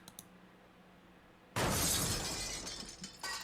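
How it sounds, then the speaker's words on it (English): Sound effect of glass windows being smashed: a sudden loud shattering burst after a quiet lead-in, with scattered tinkling debris and a second crash near the end. "he's smashing up all the windows"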